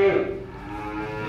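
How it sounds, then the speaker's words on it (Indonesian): Horned Limousin cattle moo close by, one long, loud, low call that carries through the whole moment, freshly washed animals at a calf and cattle sale. "Nah ini tinggi sekali sapinya, limusin bertanduk ini"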